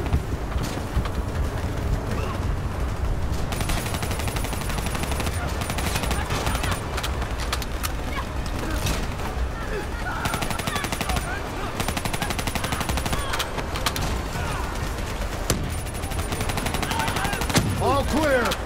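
Call of Duty: Black Ops III firefight with steady, dense automatic gunfire rattling throughout, layered with shots and battlefield clatter, while voices talk intermittently underneath.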